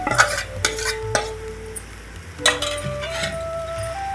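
Cooked rice being stirred into sambar in a pan, with spoon scrapes and metallic clinks against the pan over a soft sizzle, close and fairly loud.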